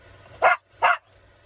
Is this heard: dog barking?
yes